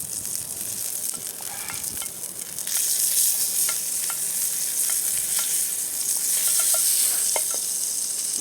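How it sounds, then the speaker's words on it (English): Butter frying and sizzling in a pan for homemade biscuits and gravy, a steady close crackle that grows louder partway through, with faint clicks scattered over it. "once we get our butter melted down"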